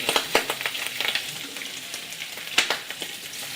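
Turkey frying in hot oil over a fire, a steady bright sizzle and crackle with sharp pops and spatters scattered through, close and fairly loud, no voices.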